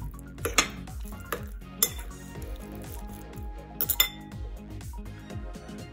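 Ingredients mixed in a bowl for garlic parmesan chicken tenders, with a utensil scraping and clinking against the bowl in a steady rhythm, some sharper knocks scattered through, close up with no talking.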